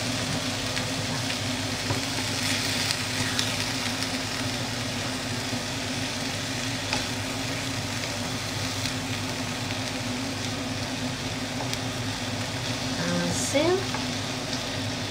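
Potatoes fry in a pan with a steady, dense, close sizzle that barely changes, while a spatula stirs through them now and then with a brief scrape near the end.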